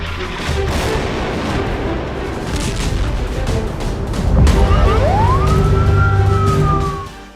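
A wailing emergency siren rises and holds over a dense, rumbling din in Israel–Gaza war footage, with a heavy low boom swelling partway through and continuing under the siren.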